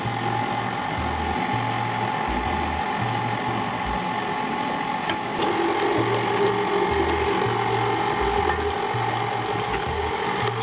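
An electric stand mixer runs on low speed through banana bread batter as dry flour ingredients go in, giving a steady motor drone with a repeating low thumping rhythm.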